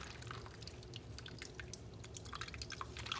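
Water drips steadily from squeezed grated zucchini, a close, quiet run of many small irregular drops falling continuously, with no talking.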